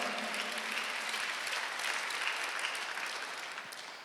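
Church congregation applauding during a Sunday worship service, steady sustained clapping from many hands filling the room throughout, with no talking.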